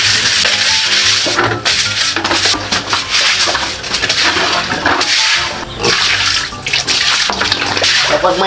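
Hard spray of water hosing down a concrete pig pen on a small hog farm, loud and continuous with splashing and slapping bursts, no talk.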